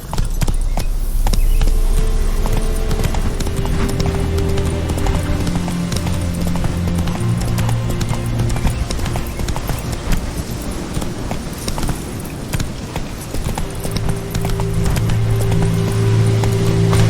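Roach, Geralt's horse in The Witcher 3, gallops with steady, loud clip-clopping hooves over a game music bed, with occasional brief snorts and whinnies.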